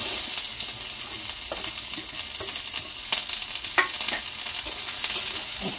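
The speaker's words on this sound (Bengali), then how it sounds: "পেঁয়াজগুলোকে ভাজবো" Chopped onions and green chillies frying in oil in a pan for ghugni, a steady close sizzle with occasional stirring clicks and scrapes throughout, no voices.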